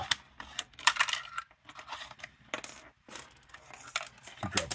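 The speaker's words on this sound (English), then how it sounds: "Keep dropping screws everywhere." Small screws from a Turbo ready heater repair drop and skitter onto a hard surface in a quick run of close, light clatters and taps. Nobody speaks.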